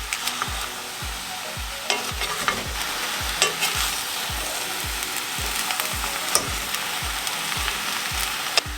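Root vegetables stir-fry in sesame oil in a pot with a continuous loud sizzle, while a spatula scrapes and stirs in a regular rhythm of close, repeated strokes; nobody speaks.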